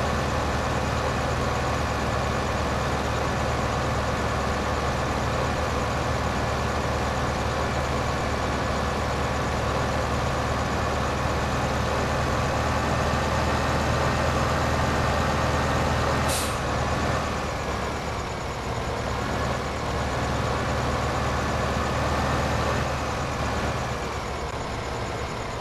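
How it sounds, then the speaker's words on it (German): A dirty Deutz tractor engine idles in Farming Simulator 15, a loud, steady diesel drone that holds unchanged for the whole stretch, with one brief click partway through. "Komm in mein Traktor und Deutz."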